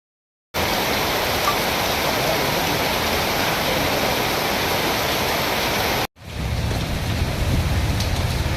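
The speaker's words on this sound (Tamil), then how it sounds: "மாநகர பகுதியில் திடீரென மழை பெய்தது" Sudden summer rain pouring over a city, a steady loud hiss of falling water that runs unbroken for several seconds, cuts off briefly, then resumes slightly softer.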